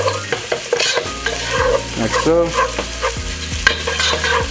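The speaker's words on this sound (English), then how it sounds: "So add our onions to stop the frying process a little bit." Onions sizzle and fry steadily in a hot pan, with stirring scrapes and clinks of a utensil throughout; a brief voice is heard.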